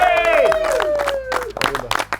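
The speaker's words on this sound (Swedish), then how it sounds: "En stor applåd!" A crowd at a pike fishing competition claps for the second-placed team, with a short burst of applause that follows a sliding tone and some talk.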